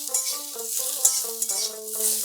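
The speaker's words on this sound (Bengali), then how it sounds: "ভালো করে একটু ভেজে নেব।" Chopped pumpkin greens with salt and turmeric fry in a pan, a soft hiss of sizzling beneath prominent melodic background music in a brief moment.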